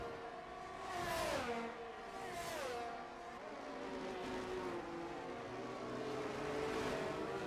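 Race cars in a sim racing game at Imola drive past, engine notes rising and falling as they approach and recede, several vehicles overlapping in a steady, moderately loud roar with no voices.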